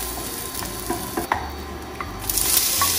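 Garlic sizzling in hot sesame oil in a pan, a steady close crackling fry with light stirring clicks and a rising hiss near the end.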